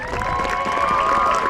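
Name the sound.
audience applause for the Woburn High School Band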